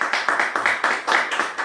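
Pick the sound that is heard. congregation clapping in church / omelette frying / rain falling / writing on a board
congregation clapping in church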